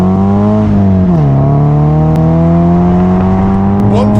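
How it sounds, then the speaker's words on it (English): Naturally aspirated 2-litre Toyota GT86/Subaru BRZ/Scion FR-S engine revving, a loud, close harmonic engine note that climbs, dips briefly, then holds a steady raised rev, with no talk. "It actually sounds quite good for a naturally aspirated 2-litre car."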